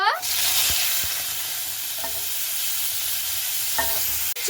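Chopped green tomatoes hit hot oil already spitting with black mustard seeds, setting off a loud, steady sizzle that runs almost unbroken, with a few soft stirring knocks against the pan.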